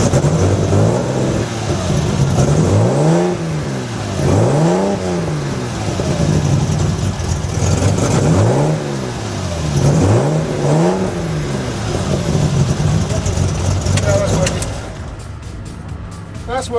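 A GTS race car engine revs hard several times in a row, each rising and falling sweep loud and close over steady idle rumble, with faint voices in the background.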